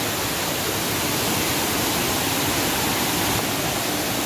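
Pa Wai waterfall in Tak province, a steady broadband roar of falling water, loud and unbroken, with no voices.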